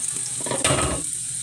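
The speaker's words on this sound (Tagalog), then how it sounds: "Isunod na naman natin ang hiniwang sibuyas." Sliced onion sautéing in a hot pan, a steady close sizzle with a brief stirring burst in the middle, heard alone without talk.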